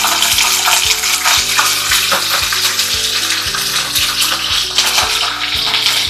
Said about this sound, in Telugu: నూనె వేడయ్యాక ఒక పది పచ్చిమిరపకాయలని చిన్న ముక్కలుగా కట్ చేసి